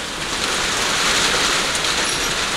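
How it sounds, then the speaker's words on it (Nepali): Heavy pre-monsoon downpour in Kailali during a windstorm, a dense, loud, unbroken roar of rain hammering surfaces close around. "वर्षा भइरहेछ है कैलालीमा"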